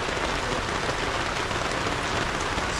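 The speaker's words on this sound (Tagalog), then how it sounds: "Sinubukan yung ulan oh." Steady rain falls on a garden nursery, a dense, continuous hiss of drops pattering on surfaces with no pauses and no voices.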